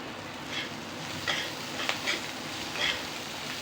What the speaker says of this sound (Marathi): आता मिरची तळत आली